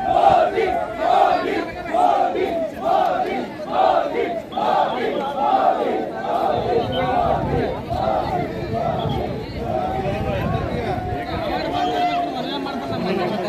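A huge crowd of party workers at a Narendra Modi rally at a large ground, a dense roar of chanting and cheering voices with rhythmic shouted slogans, loud and sustained throughout.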